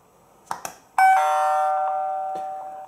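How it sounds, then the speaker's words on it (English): A few soft clicks, then a Tuya WiFi video intercom doorbell chime rings out from its small speaker, a clear sustained tone slowly fading. "we will immediately hear a ringtone from the speaker"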